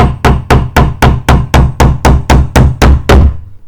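Hammer driving nails into the wooden pieces of an insect house kit: about a dozen sharp, evenly spaced strikes, loud and close, in a steady beat with no talking.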